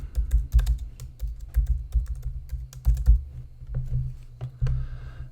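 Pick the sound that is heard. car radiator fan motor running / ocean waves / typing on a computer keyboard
typing on a computer keyboard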